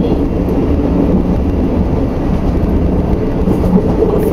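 A 1938 Tube Stock train running on the Metropolitan Line, heard from the cab as a loud, continuous low rumble and roar of wheels and motors with faint rhythmic rattling underneath.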